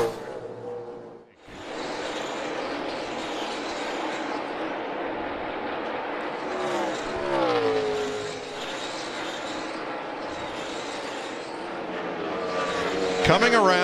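NASCAR stock cars race around the oval in the final laps, a loud sustained engine roar with passing surges, under excited commentary from announcers.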